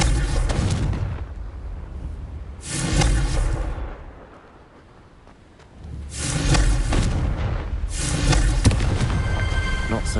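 Fire-spell blasts in the video game Hogwarts Legacy, several loud booming explosions with rumbling decay, separated by a brief quieter lull, heard alone without talk.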